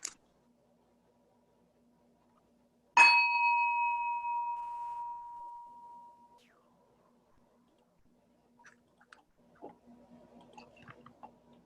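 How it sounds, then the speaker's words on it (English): A single bell struck once to open a church service, a clear ringing tone that decays slowly over about three seconds in a quiet room, followed by faint rustling. "We begin our service by ringing a bell to bring us together."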